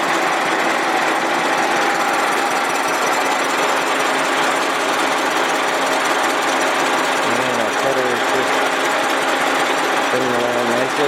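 Milling machine taking a light, slow-feed cut across a jigged engine block during an L-head engine rebuild, giving a steady, loud, continuous grinding whine with a constant machining drone throughout.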